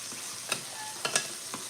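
A glaze for glazed shark stirred in a pan, a few soft scrapes of a utensil over a faint sizzle, close and quiet, with no talking.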